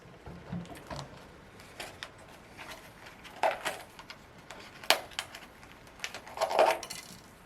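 A tie is snipped off a pot-bound tiger bark ficus bonsai, a few sharp close clicks and snaps of the cutter scattered among soft handling rustles, with no talk.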